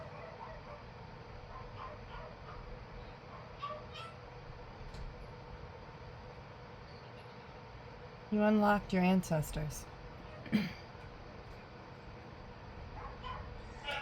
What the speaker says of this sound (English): somebody just got home and my dogs are greeting them